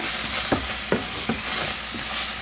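A fish stew's spices are stirred through in a pan over a constant frying sizzle, with roughly four distinct scraping strokes at a steady pace, close up and with no talking.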